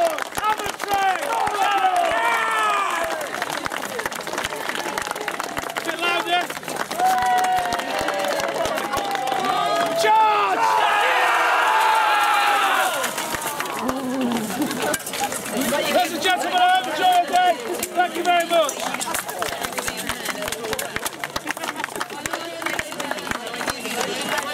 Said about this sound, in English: So do you think they deserve some more